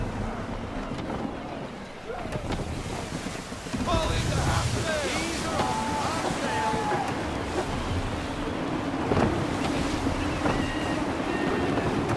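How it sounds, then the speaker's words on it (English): Steady gusting wind over open sea in Assassin's Creed 3, with waves and a sailing ship creaking and rushing along, a continuous broadband roar with occasional faint tonal creaks and calls. "Wind looks to be shifting. Stay alert, Connor. Gusty winds can be difficult to manage."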